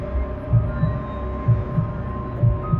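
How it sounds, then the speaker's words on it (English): A heartbeat sound effect with a steady lub-dub pulse repeating about once a second over a low, constant hum, close and throbbing with no voices. "Is it the beating of your own guilty heart?"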